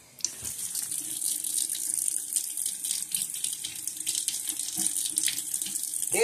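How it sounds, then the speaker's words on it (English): Water runs from a bathroom sink faucet into the basin in a steady, close splashing stream that starts abruptly and carries on throughout, with a few small knocks and no speech. "See, we turn the sink on."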